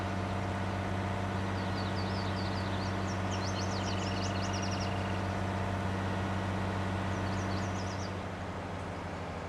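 Tractor engine idling steadily in Farming Simulator 19, a constant low droning hum throughout with faint chirpy game ambience above it, no talk.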